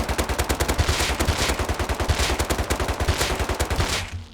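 Rapid automatic fire from an MP5 submachine gun in the survival game Rust, a steady burst of evenly spaced loud shots lasting about four seconds before cutting off.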